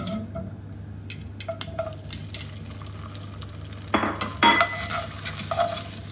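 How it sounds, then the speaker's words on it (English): Pasta tumbles into a pan of gently cooking garlic and olive oil, a soft sizzle with light stirring and scraping, then a louder clatter of food and metal near the end, close by with no talk. "Next, I'm going to add my pasta."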